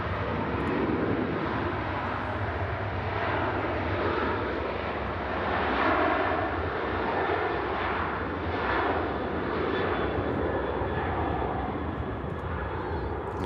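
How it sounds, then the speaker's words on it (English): Ryanair jet on Manchester Airport's south runway, a continuous loud engine roar with slow surging swells throughout. "And Ryanair on the south runway heading out to Milan."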